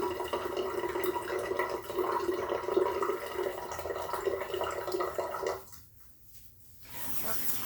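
Water runs steadily while natural hair locs are rinsed, a close splashing flow that cuts out briefly near the end before resuming, with a voice talking faintly over it.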